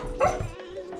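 Puppies bark on command in a short, fairly close burst, with a yip and a softer whimpering trail, while a person speaks over them.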